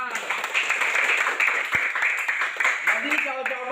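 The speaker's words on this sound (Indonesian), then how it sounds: "Mari kita tepuk tangan." Children in a classroom clap hands together as a group, a steady dense patter of claps with some voices mixed in.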